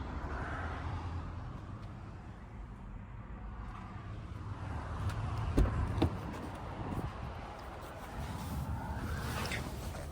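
Steady road and wind roar from inside a 2024 Acura ZDX cruising on a highway, a low continuous rumble with a couple of brief knocks near the middle and no talking.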